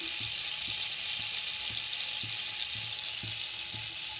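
Cumin seeds crackle in a mix of hot oil and butter, a steady soft sizzle with a faint repeating tapping of stirring beneath it.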